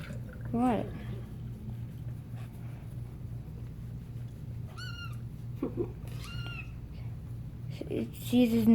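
A kitten meows in short, high, wavering cries while being dried off after a bath. There are several close meows spread across the second half, under ongoing talk and steady low background hum.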